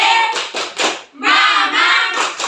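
A school class claps in quick rhythmic bursts, loud and close, with short pauses between patterns.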